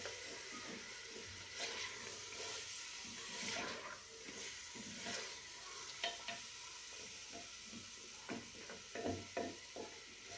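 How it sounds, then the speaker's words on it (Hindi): Chicken frying in a karahi pan for desi murgh karahi, a soft continuous sizzle with scattered scrapes and clinks of a spoon stirring against the metal, close up with no talk. "चिकन का कलर चेंज होने तक हम इसे भूनेंगे।"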